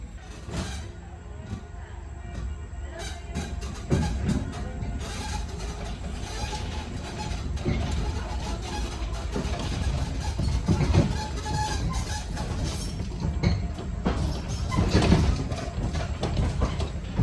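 Rumbling train wheels roll continuously over rails with rattling and clacking, a steady interior ride noise throughout.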